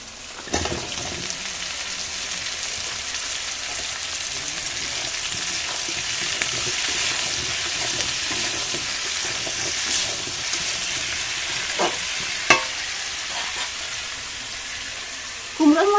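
Cut pumpkin and bay leaves hit hot oil with browned onions in a pan, a loud steady sizzle lasting throughout, with faint stirring clinks and a voice talking now and then.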